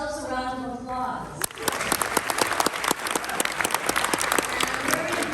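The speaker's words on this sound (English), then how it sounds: "Give yourselves a round of applause." At a 60th anniversary film screening event, a crowd bursts into loud, dense applause after a moment of quieter sound, with sharp individual claps popping out through the steady roar.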